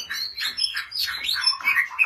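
A Vietnamese white-rumped shama (murai batu) sings close and clear, a rapid run of bright whistles, slurred notes and sharp chirps with no voices.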